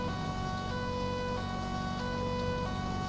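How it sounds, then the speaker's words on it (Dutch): Ambulance siren in a FiveM police roleplay game, a steady wailing tone that holds at an even, fairly loud level for the whole stretch, heard alone with an engine-like hum beneath. "Ja, er is een ambulance."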